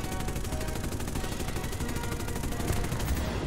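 Aircraft machine guns firing in the video game War Thunder, a continuous loud rapid burst of gunfire with a dense engine roar beneath it.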